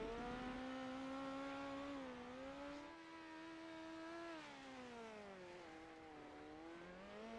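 A dirt-track sport mod race car at Plymouth Dirt Track running down the backstretch, its engine a steady, faint revving whine that rises and falls with throttle changes, heard from a distance.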